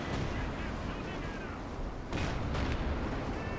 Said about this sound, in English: Jackson's opening fire on the Panzer Grenadiers